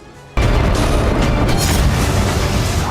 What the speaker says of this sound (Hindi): बाखमुत में अब तक न धमाके रुके